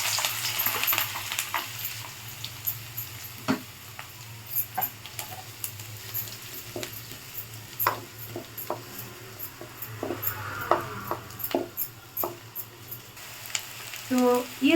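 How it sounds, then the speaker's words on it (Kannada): Chopped native onions, about 150 grams, frying in hot oil in a pan for spicy mutton sukka, with a steady sizzle and frequent scraping stirs of a spatula throughout, no talking. "ಈರುಳ್ಳಿ ನಾವು ಚೆನ್ನಾಗಿ ಗೋಲ್ಡನ್ ಬ್ರೌನ್ ಕಲರ್ ಬರೋವರೆಗೂ ಚೆನ್ನಾಗಿ ಫ್ರೈ ಮಾಡ್ಕೊಂಡಿದ್ದೀವಿ"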